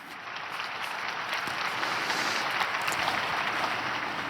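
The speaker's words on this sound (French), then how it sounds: "Je vous demande d'applaudir ce peuple." An audience breaks into applause that swells within a second and holds as steady, dense clapping, loud and sustained with no voices over it.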